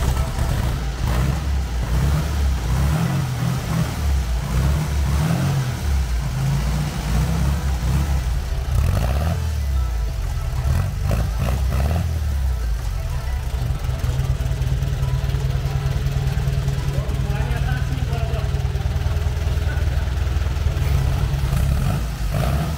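A Volkswagen Beetle engine idles steadily after an oil change, suspected of worn piston rings, with a continuous close low rumble and occasional slight revving throughout.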